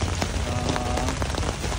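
Heavy rain easing off at a tent campsite in the West Coast area of Singapore, a dense, even patter drumming on the surfaces around a tent being packed up, continuous and close.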